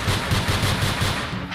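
Rapid machine-gun-style fire from the video game NONGUNZ: Doppelgänger Edition rattles in a fast, even burst for the whole moment, loud and dense, with no voice over it.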